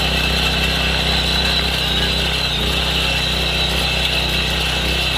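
An iMac power weeder's premium-quality engine runs steadily and loudly nearby, a continuous rough mechanical drone with no break and no one speaking.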